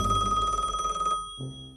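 A Soviet-era home telephone bell rings loudly in a steady rattling trill, stops short, then a fainter tone follows.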